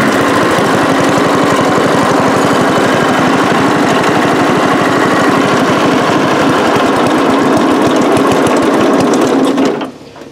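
A small freebie engine, flooded from being choked off, runs at a loud fast buzzing idle close by for about ten seconds, then cuts out abruptly.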